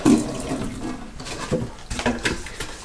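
Warm water runs steadily from a sink tap while a Berkey filter is being cleaned with soap, a close, continuous splashing flow with a few brief clinks and no talking.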